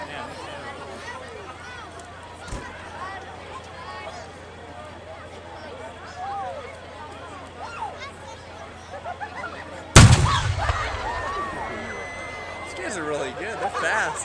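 Reenactors at the Kings Mountain battle reenactment fire their guns in one sudden, loud volley about two-thirds of the way through. Before it, outdoor crowd chatter carries on quietly, and lively voices follow the blast.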